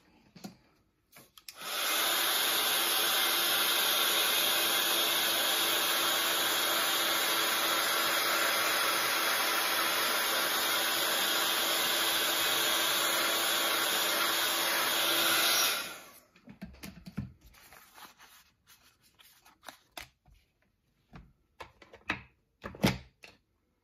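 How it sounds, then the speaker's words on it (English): A heat gun blows steadily while drying a watercolour card panel, a loud, close, even roar lasting about fourteen seconds before it cuts off, followed by faint handling noises. "I'm just going to leave you a second while I dry this with a heat gun"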